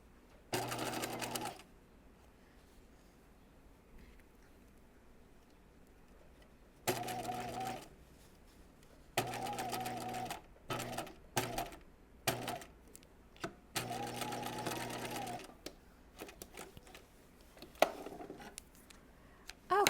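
A sewing machine stitches a reinforcement line on a raglan top, running in short stop-start bursts of rapid mechanical whirring and clatter, close and clear, with quiet pauses between runs.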